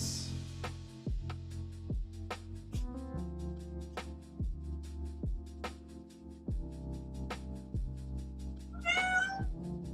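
A cat meows near the end, a short, clear cry heard over a steady, rhythmic musical backing in an art studio, with no talking in between.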